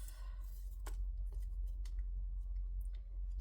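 Double-sided tape peeled off fabric during sewing, giving a few sharp crackling rips and small ticks over a steady low hum, close and fairly quiet.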